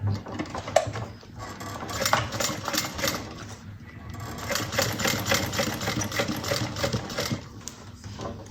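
A sewing machine top stitches a fabric bucket bag, running in steady bursts with a short pause midway and faint clinks.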